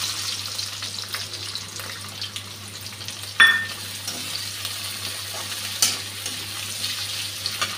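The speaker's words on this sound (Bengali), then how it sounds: "এখন বেগুনটা ভাজতে দিয়ে দিচ্ছি।" Eggplant fries in hot oil with a soft, steady sizzle, punctuated by a sharp splash and crackle as pieces go in and a few occasional stirring clinks, with no voices.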